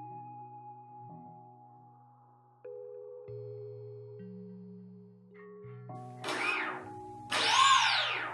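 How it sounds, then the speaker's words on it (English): Small electric motor on a balsa wood three-channel Cub RC trainer model, running after power-on: faint steady tones that step in pitch several times, then two louder, brief whirring bursts that sweep up and down near the end. "check that the motor is running the correct way"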